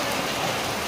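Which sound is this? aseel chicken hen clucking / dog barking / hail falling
hail falling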